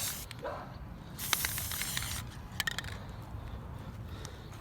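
Primer sprayed from an aerosol can onto a parts bin, several short hissing bursts of spray close by with brief pauses between them, no voices.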